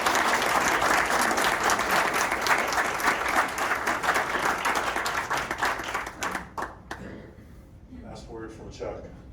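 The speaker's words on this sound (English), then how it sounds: "Another round of applause for" Loud, sustained audience applause fills a community meeting hall after a panel talk on an open space levy, then thins out into scattered claps and fading noise near the end.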